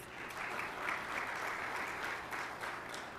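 Steady audience applause at a Ministry of Education stakeholder meeting with business and energy chamber members, a dense even wash of clapping from a room of people lasting a few seconds with no voices over it.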